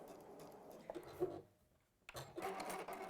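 A sewing machine stitches grey thread on fabric for a cushion, a close, fairly quiet whirring hum in two bursts separated by a brief pause, with faint background noises around it.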